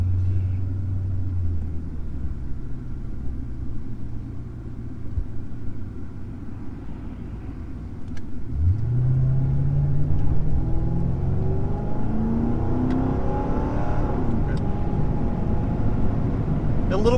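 A police car's engine rumbles steadily while driving, then its note rises as it accelerates with more pickup, a continuous close drone with an upward sweep in the second half.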